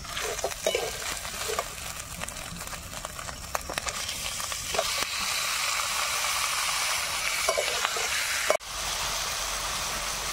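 Chicken goes into a pan of sizzling mahua fruit and spices, a steady loud frying hiss broken by scattered clicks of utensils, with a sharp clatter near the end.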